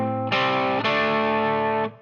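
Heavily distorted electric guitar plays two chunky double-stop chords from a riff, the second sustaining loudly for over a second before being cut off.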